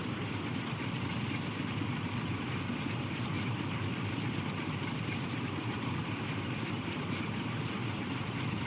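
A locomotive engine working under throttle up a grade in Train Sim World 6, hauling a nuclear flask train, heard as a steady, even drone with faint regular clicks running over it.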